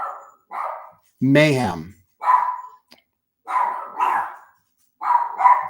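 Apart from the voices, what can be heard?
dog barking next door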